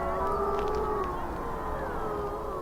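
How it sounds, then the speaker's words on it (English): A wolf howls in a long, sustained, wavering tone that slowly falls in pitch, heard clearly over a steady background hiss with faint higher tones drifting in the early part. "All wolves howl to communicate among and within their packs"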